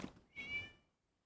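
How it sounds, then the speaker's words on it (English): A single cat meows in a video game, a clear mid-length cry with a short thud-like onset before it, fairly quiet and heard alone. "It was just a cat."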